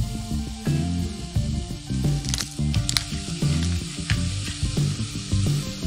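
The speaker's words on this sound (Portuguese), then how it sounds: "Refogue por alguns minutos." Steady sizzling of meat sautéing in a hot pan, with occasional stirring clinks and scrapes over the crackle.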